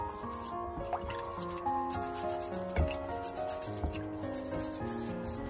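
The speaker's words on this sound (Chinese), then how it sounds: "所以我们再用牙刷给它彻彻底底的再刷洗一遍，特别是生姜的夹缝里面洗不到的地方要给它多刷洗一会儿" A toothbrush scrubs fresh ginger root under water, making continuous close rubbing and brushing strokes with small drips and faint clinks, moderately quiet and with no speech.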